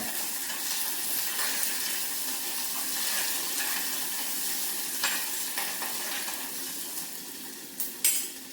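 Sliced bitter gourd frying in hot oil, a continuous fine sizzle with a few brief clinks and scrapes of stirring near the end, no talk.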